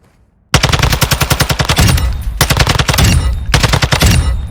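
Loud automatic fire from a TAQ-56 assault rifle in Warzone, three long sustained bursts of rapid, evenly spaced shots with brief pauses between, close and punchy with no talk.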